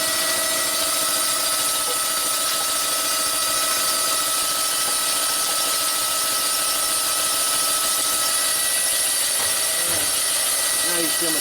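A boring machine cuts a Harley twin cam big bore cylinder, a steady loud mechanical drone with a high whine and faint squeals near the end.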